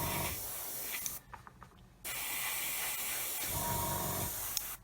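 An airbrush hisses a flat finish onto a 1/32 Airfix Humber scale model, in a steady close spray interrupted by one short pause before resuming.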